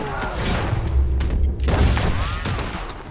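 Gunfire in Red Dead Redemption 2 booms loud and close, a heavy shot or two with rumbling low echo under ambient game sound and a brief voice.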